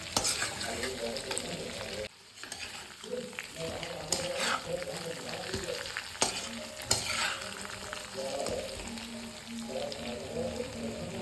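Local chicken meat sizzles and spits in a hot pan while a utensil scrapes and stirs it in irregular bursts, close up.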